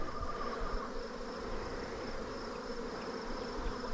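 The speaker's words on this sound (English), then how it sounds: "Take a closer look at this beehive over here while we're down here. Holy smokes, they're busy." Honeybees swarm around a busy beehive outdoors, giving a steady, dense buzzing drone that stays even and fairly close throughout, with no talking over it.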